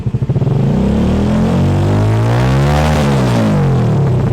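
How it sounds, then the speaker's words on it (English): A homemade racing car engine revs hard and loud up close, a buzzing, throaty note that climbs and falls in pitch with clear harmonic sweeps, running alone with no talk. "Listen to the engine sound."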